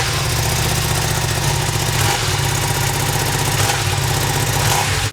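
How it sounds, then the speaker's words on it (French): A Ducati Streetfighter V2 motorcycle with its stock exhaust idles close by, a steady, even engine throb that holds for about five seconds before cutting off abruptly. "On est actuellement sur la ligne d'origine, qui franchement je trouve fait un bruit plutôt sympa."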